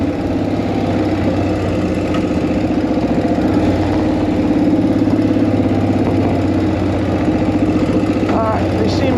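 A 1940 Ford flathead engine rumbles steadily with a low, throbbing drone while downshifting, close and loud for the whole stretch with some speech-like sounds mixed in.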